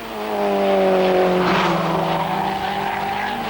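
An Opel Kadett GSI 16V race car pulls away to rejoin the Nürburgring 24 Hours after a pit stop, its engine droning loudly with a rising, sweeping pitch, then settling into a steady roar.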